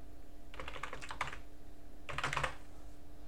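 Typing on a computer keyboard at a desktop running Manjaro LXQt, two quick bursts of close, crisp key clicks separated by a pause, with a faint steady hum behind.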